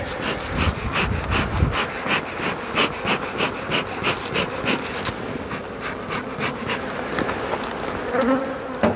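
Honey bees hum and buzz steadily at close range around colonies being split into swarms by the coast, with soft pulsing textures and occasional handling noises.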